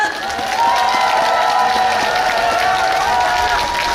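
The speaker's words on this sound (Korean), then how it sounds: "여러분 다시 한번 뜨거운 박수 부탁드리겠습니다" A festival crowd applauds and cheers at the opening ceremony of the Gyeongnam youth influencer festival as a singer and guests enter the stage: a steady, dense wash of clapping and crowd noise with a sustained tone running beneath.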